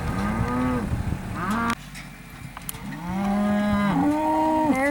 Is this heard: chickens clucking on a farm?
no